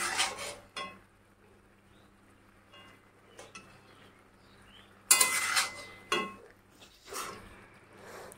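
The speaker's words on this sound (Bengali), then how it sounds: "ডিমটাকে দিয়ে ভালো করে নেড়ে নেওয়া হচ্ছে।" A utensil stirs egg curry with potatoes, soybean chunks and chickpea lentils in a cooking pot, giving intermittent scraping clinks and soft sizzling bursts spaced over a quiet background hum.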